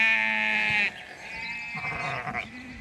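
Young lambs around six to seven months old, for sale, bleat loudly nearby in a long sustained cry, then quieter, wavering bleats follow over faint farm background.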